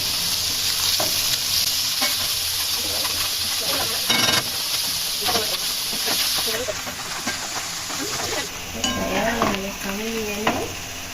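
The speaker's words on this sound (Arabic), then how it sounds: "المشروم برضو بحطه بنفس الزبدة، حطيت بس حبة زيت عشان ما يلزقش في الصينية" Mushrooms fry in butter with a little oil in a pan, a steady close sizzle and hiss with occasional stirring clatter, while a voice talks intermittently over it.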